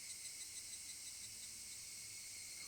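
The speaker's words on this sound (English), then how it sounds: "Only the cry of the cicadas remained, annoyingly loud." Cicadas drone in the visual novel game Higurashi, a continuous shrill buzzing chorus that holds steady and fairly quiet throughout, with no voices.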